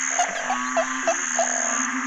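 Narrow-mouthed frogs call at night in a forest, several short croaks repeating at a steady rhythm about every quarter to third of a second over a constant drone of insects. The calls are close and clear, with no voices.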